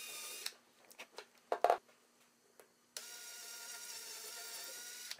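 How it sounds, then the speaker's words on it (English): A small drill bit bores a hole in a wine cork, heard as a few brief whirring bursts with clicks and pauses, followed by a steadier, continuous motor whir near the end. "I used a small drill bit to drill a hole for the nose"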